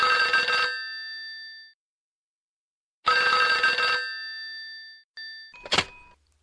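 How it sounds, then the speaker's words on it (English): A telephone bell rings in two loud, bright bursts separated by a pause of more than a second. A short click and rattle follow, with no voices. "Arthur, you got a phone call over here."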